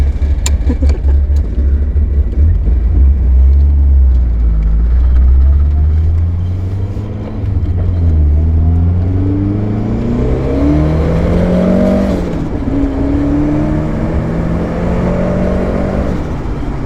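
A Toyota car engine runs close by with a mechanical cam rattle, idling and then revving so the engine note climbs and falls.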